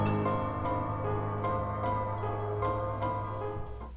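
Forbidden Nocturne, a music-box style song played by Freddy in a Five Nights at Freddy's fangame, rings out as a steady, sustained melody with soft repeated notes over a low drone, fading at the end, with no talking.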